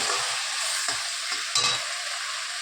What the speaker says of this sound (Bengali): আর এই যে মশলা কষাচ্ছি